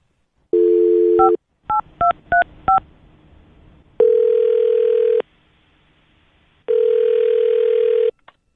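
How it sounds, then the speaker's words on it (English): A phone line tone sounds, then a quick run of touch-tone beeps as a number is dialed, followed by two long ringback tones. "I'll dial his phone number right now"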